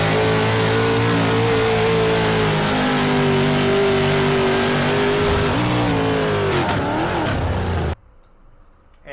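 Race car engine in iRacing heard from the onboard camera while the car flips, a loud continuous revving drone with pitch sweeping up and down, cutting off abruptly near the end.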